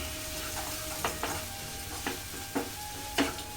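Curry sizzles softly in a pan after chili powder is added, with a spoon stirring it in several distinct scraping strokes over a low, steady frying hiss.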